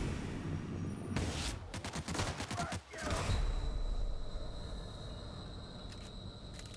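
Rapid bursts of gunfire from The Outer Worlds video game crackle over a steady game ambience for a couple of seconds, then give way to a lingering rumble and a thin high tone.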